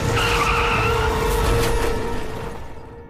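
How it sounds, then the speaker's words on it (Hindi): In a car accident scene from a Chinese drama, tires squeal and skid loudly and close up, a sustained screech with engine noise that holds steady and then fades away at the end, with no one talking. "गाड़ी का एक्सीडेंट होने के बाद भी यांगजिंग वहाँ से भागने की कोशिश करती"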